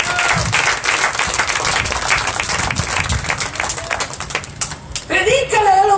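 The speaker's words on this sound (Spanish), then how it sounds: "Un aplauso al Señor" A church congregation breaks into dense, sustained applause, loud and close, with scattered shouts mixed in before a voice rises over the fading clapping near the end.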